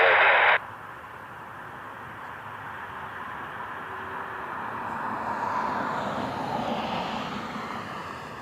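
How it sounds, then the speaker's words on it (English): A UPS Boeing 767 cargo jet on its way to Louisville, heard near Cleveland Hopkins airport as a steady broadband roar that slowly swells, opening with a brief burst of radio hiss. "UPS 767, flight 1441 on their way to Louisville."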